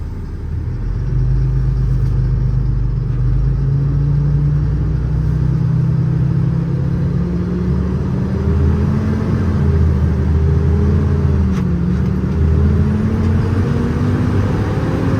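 A 2019 International MV106 truck with a 6.7 Cummins ISB diesel and Allison automatic transmission idles steadily up close, a loud continuous low rumble with a slowly rising engine tone partway through.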